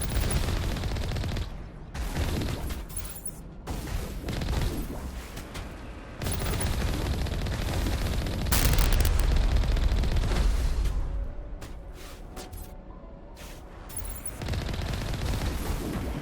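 Rapid laser-gun bursts from a vehicle-mounted weapon in the Mass Effect game, rattling off like a machine gun in dense, sustained volleys with brief gaps, loud and close, no talking.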